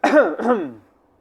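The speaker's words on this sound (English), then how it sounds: "Cough." A voice says the word "cough" aloud as a mock cough, a short throaty vocal burst in two parts, close and alone, then silence.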